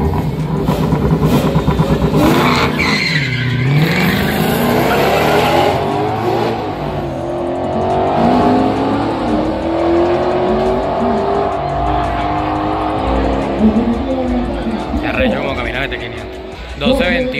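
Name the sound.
drag racing car accelerating down the strip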